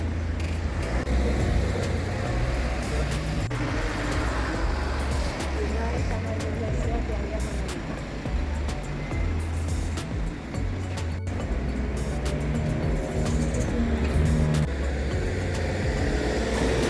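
Steady road traffic rumbles past near a castle on the Camino de Santiago route toward Cacabelos, a continuous low drone of passing cars with talk over it throughout.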